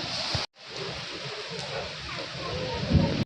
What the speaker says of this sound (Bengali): কারণ এতটাই বৃষ্টি হচ্ছে, মানে চরম বৃষ্টি, চরম।